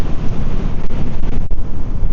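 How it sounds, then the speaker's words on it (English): Heavy wind buffeting a microphone while riding a Onewheel Pint electric board into a headwind, a loud, continuous roaring rumble with gusty surges and no voices. "I think I'm definitely going into the wind"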